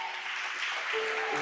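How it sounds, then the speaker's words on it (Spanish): A church congregation breaks into brief applause during a Spanish-language service, a steady wash of clapping with a faint tone lingering underneath. "Dale un aplauso al Señor."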